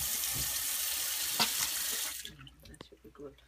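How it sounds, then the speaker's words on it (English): Warm tap water runs into a sink for rinsing, a loud steady gush that cuts off partway through, followed by quieter small movements and faint vocal sounds. "Rinse one more with warm water."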